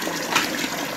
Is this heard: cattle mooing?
no